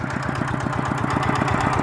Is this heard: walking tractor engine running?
yes